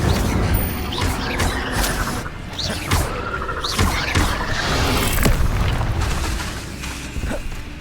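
Incendio fire spell cast in Hogwarts Legacy, whooshing bursts and crashing impacts repeating over busy combat clatter, with no talk.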